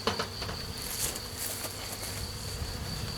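Honeybees in a weak hive buzz softly and continuously, with a faint steady hum and scattered small ticks and rustles nearby.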